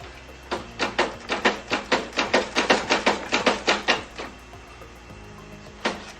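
A ratchet tightens the crank stop bolt on a BMW F650 engine during a valve clearance check: a steady run of about fifteen crisp, evenly spaced clicks, close and fairly loud, then a pause and one last click.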